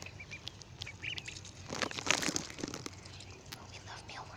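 Ducklings in a backyard give soft, scattered quacks and peeps, mixed with crinkling and pecking noises near the ground while a person talks quietly nearby.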